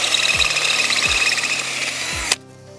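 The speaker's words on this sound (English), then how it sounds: "I'm gonna just keep drilling" A power auger grinds steadily into rocky ground while digging a post hole for T-post fencing, a loud continuous motor drone with periodic low knocks, then cutting off abruptly near the end.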